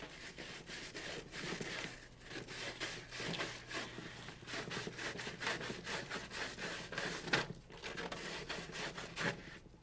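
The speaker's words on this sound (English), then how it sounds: "Measure the diameter of the gauge and use the appropriate hole saw." A hole saw grinds through material in quick, repeated rasping strokes, fairly quiet and steady with a faint low hum underneath, cutting gauge holes in a Rotorway EXEC 162F helicopter.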